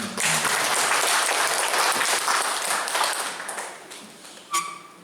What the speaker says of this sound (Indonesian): Boleh lagi saya tepuk tangan.